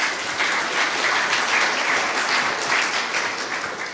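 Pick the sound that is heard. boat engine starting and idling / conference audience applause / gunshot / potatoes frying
conference audience applause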